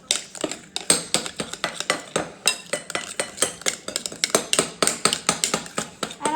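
A utensil stirs molasses cookie batter in a bowl, making fast, rhythmic clinking and scraping strokes, loud and close, with no talk.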